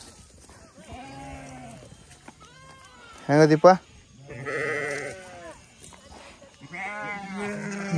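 Young sheep lambs bleat from a flock in rural Karnataka, a few close, high wavering cries with a loud burst near the middle, while people talk around them.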